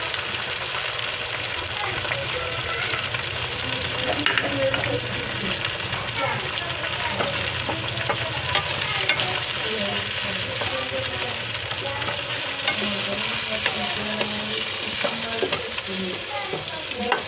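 Peas, chilies and tomatoes fry in hot oil for matar pulao, a loud, continuous close-up sizzle with steady crackle and occasional stirring scrapes throughout.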